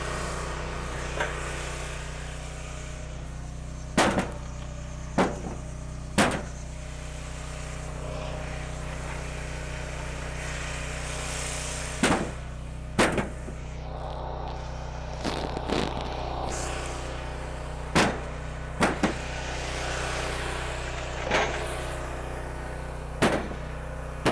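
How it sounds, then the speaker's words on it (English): Gas-powered log splitter engine idles in a constant low drone throughout, with sharp intermittent knocks and clunks scattered over it outdoors. "All this time my splitter's running. It's drinking gas, and nothing's getting split."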